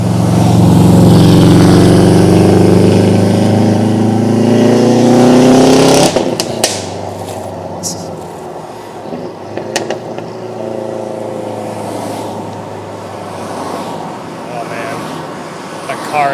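A badly tuned car passes close by on a road during an e-bike commute between Wilsonville and SE Portland, its loud rough engine drone rising and then dropping away within a few seconds, followed by quieter road noise.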